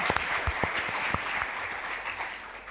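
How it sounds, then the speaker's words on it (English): Conference audience at a family-business succession panel gives a round of applause, a soft, even wash of many hands clapping at a moderate distance, with a few sharper claps near the start, steady throughout. "please give us a round of applause"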